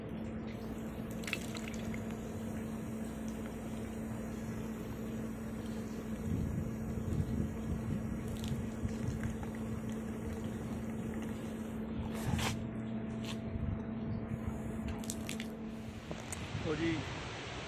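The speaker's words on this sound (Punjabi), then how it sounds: "ਪਾਣੀ ਭਰ ਲਓ ਪੀਣ ਵਾਲਾ।" Drinking water filling from a foot-pressed fountain outdoors in the Whistler mountains, Canada: a steady trickle and splash under continuous broadband outdoor noise, with a few brief louder bursts near the end.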